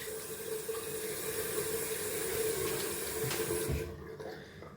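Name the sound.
cold tap water splashed on the face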